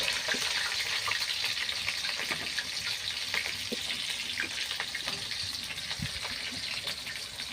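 Chopped onion frying in a generous amount of oil for a mustard hilsa curry, a steady close hiss and crackle that runs without a break, with faint scattered pops and stirring ticks.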